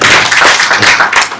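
Audience clapping at a provincial working meeting of an Indonesian sports organization in Bali, a dense, loud burst of many hands filling the whole short moment.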